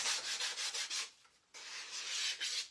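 Sandpaper rubs in quick back-and-forth strokes along the wooden edges of a rustic bunny round decor piece, with a short pause midway before the sanding resumes, close and fairly quiet.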